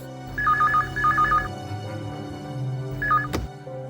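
A telephone rings in two-tone bursts, two quick groups of trills and then a shorter one, loud and close, in a Hindi family sitcom home, with a brief thump near the end.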